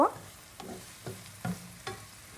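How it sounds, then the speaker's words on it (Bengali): A cup of chopped onions fries in a pan over medium heat for a green tomato and rohu fish curry, with quiet sizzling broken by a few soft stirring scrapes about every half second. "চুলা আঁচটা মাঝারিতে রেখে আমি পেঁয়াজ ভেজে নিব"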